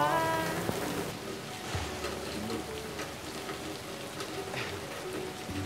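Rain falls steadily in an even, soft patter that stays constant throughout, with some faint music-like tones at the start and a low indistinct background.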